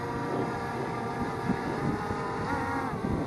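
Steady, loud wind roaring across the microphone with a broad rumbling texture, continuous throughout and no voices heard.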